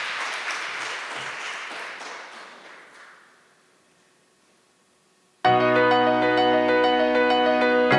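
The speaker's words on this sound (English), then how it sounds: "please, a round of applause for Natalie." Audience applause at a university entrepreneurship honors and awards night, clapping fades out over about three seconds into near silence, then loud sustained music abruptly starts.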